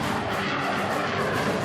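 Rafale fighter jet roaring steadily overhead, a loud continuous broadband engine rush with a slight wavering, filling the whole moment with no voices.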